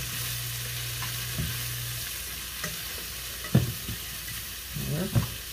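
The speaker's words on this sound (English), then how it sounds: "Now we're adding our onion, and I'm going to give it a quick stir to combine." Onion stirred and frying in oil in a pan for peanut butter hoisin ramen with chicken and veggies: steady close sizzle with a few scraping stirs and spoon knocks near the end.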